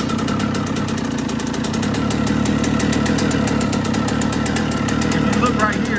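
A 2000 Suzuki RM125 two-stroke motorcycle engine idling while running rich, a loud, steady, close buzzing drone with a fast, even pulse and no break.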